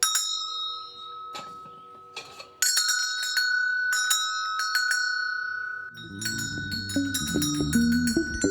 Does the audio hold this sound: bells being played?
yes